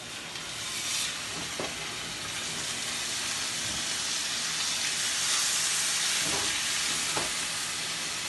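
Swordfish pieces fry in hot oil in a pan, a steady, moderately loud hiss and sizzle with a few soft bursts as the fish settles, no voices.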